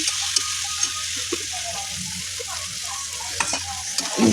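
Chicken with tomatoes frying in a pan sizzles steadily while a spoon stirs and scrapes through it in irregular strokes, growing busier and louder toward the end, no talking.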